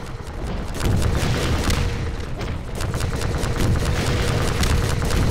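Rapid, continuous gunfire in Half-Life 2, a dense stream of close, loud shots rattling steadily over booming game noise.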